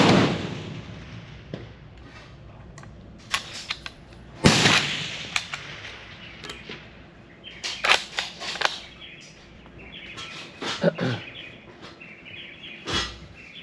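A WW2-era rifle fires at a 500 m target range outdoors, several sharp, loud reports spaced irregularly across the span, each with a brief decaying tail, with birdsong faint in the background.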